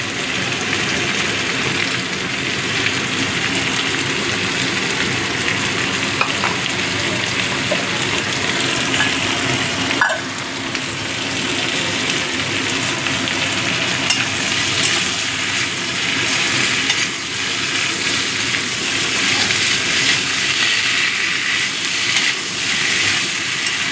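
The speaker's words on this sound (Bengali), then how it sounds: "আদা জিরে বাটাটা দিয়ে একটু কষিয়ে নেব" Ginger-cumin paste frying with softened tomatoes in a pan for a vegetarian papaya and potato curry, a steady loud sizzle and crackle running throughout with no talking.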